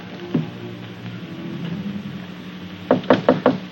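Four quick, firm knocks on a wooden door come in an even rhythm near the end, close and clear after a stretch of quiet room tone and a single earlier tap.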